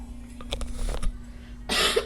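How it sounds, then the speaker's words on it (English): A person clears their throat with a couple of short rough bursts, followed by a longer, louder harsh clearing near the end, with a steady low hum underneath. "Let me clear my throat."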